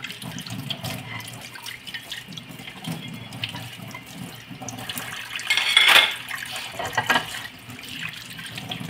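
Dishes being washed under a running kitchen tap, with a steady stream of water, soft clinks of plates and cutlery, and a brief louder splash partway through; no one speaks.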